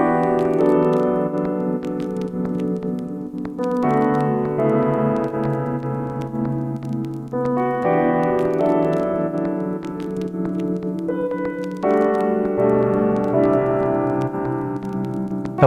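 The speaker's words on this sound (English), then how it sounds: "My main musical idea is a short piano theme," Short piano theme in a composition, full chords struck in a slow repeating pattern with notes ringing and sustaining between phrases, loud and close with no voices.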